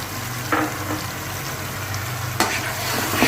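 Spices with crushed coriander seeds, cumin and yogurt fry in a pan with a continuous loud sizzle, broken by a couple of brief stirring scrapes, close and without talk.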